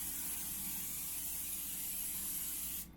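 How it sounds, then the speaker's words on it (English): A steady, close hiss of cooking spray aimed into a pan aboard a sailboat runs for about three seconds without a break, then stops abruptly. "we're going to add a little bit of cooking spray to the bottom"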